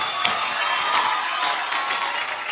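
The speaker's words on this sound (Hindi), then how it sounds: "निशांत, जोरदार तालियां यार एक बार" A crowd claps and cheers for a dance team at a show, a steady wash of applause with brief whoops rising over it throughout.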